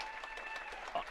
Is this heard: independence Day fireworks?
no